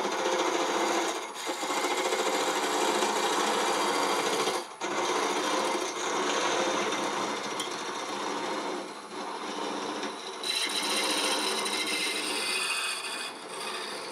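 A power sander smooths the bottom of a wood-turned mushroom with a continuous close buzzing, gritty whir, broken by a few brief pauses where contact lifts.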